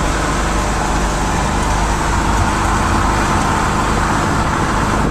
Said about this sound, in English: Great exhaust sound.